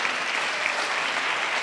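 Brief burst of full, steady applause from a church congregation praising the Lord during a service, dense clapping with no talking.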